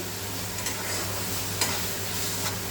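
Chicken curry masala with green chillies frying and being stirred in a pan, a steady close sizzle with a few brief scraping clicks, no voices.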